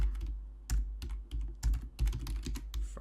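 Keys clatter on a computer keyboard while an email is written in Thunderbird on Windows, with irregular bursts of quick close taps and short pauses between them, and no one speaking.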